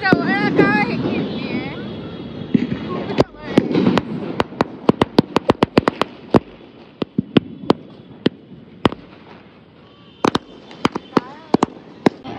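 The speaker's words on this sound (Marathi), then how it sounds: "आता ह्यांनी लावलाय फुटेल फटाका" Firecrackers burst outdoors, a long run of sharp, loud cracks, some single and some in quick clusters. People talk over the first few seconds.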